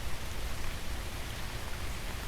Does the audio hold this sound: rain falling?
yes